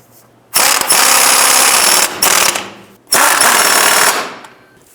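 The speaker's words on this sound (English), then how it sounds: "now we're going to snug up both bottom bolt and the upper bolt." Impact wrench driving the lower and upper shock absorber bolts on a 2005-10 Jeep Grand Cherokee: two loud, close bursts of rattling hammering, the first about a second and a half with a short break, the second about a second, without speech.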